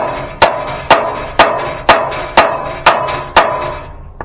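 Hammer strikes on a kayak trailer being built, seven sharp, evenly spaced blows about half a second apart. Each hit rings briefly and is loud and close, with no talking.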